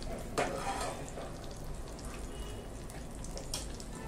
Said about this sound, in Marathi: मस्त आता फोडणी तडतडायला लागली.